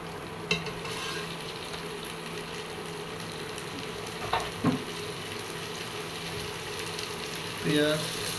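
Ginger paste sizzles steadily in hot mustard oil in a pan, a continuous close frying hiss with a few brief clinks and stirring scrapes.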